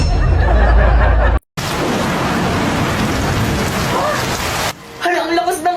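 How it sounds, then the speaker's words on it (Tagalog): Heavy rain pours down in a steady, loud, dense hiss that fills most of the stretch, cut off briefly near the start. Louder noise comes before the rain, and voices follow it at the end. "Hala, ang lakas ng ulan."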